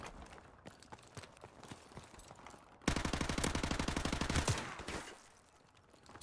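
M4 rifle fire in Call of Duty: Modern Warfare Remastered. A few scattered distant shots lead into a loud, rapid automatic burst of about a second and a half, then the fire tapers off.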